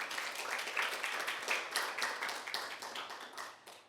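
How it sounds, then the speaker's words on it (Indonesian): A congregation at a Sunday church service claps in a fairly rhythmic, moderately close patter that gradually thins and fades toward the end, with no talk over it. "tepuk tangan kita buat Tuhan, saudara"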